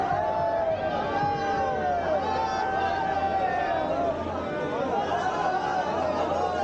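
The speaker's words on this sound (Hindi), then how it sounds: "इस भीड़ को देख के आप अंदाज़ा लगा सकते हैं कि हजारों की संख्या में भक्त दर्शन के लिए आए हुए थे" Crowd of thousands of pilgrims at Kedarnath temple: a thick, close babble of many overlapping voices, with footsteps and movement, continuing without pause.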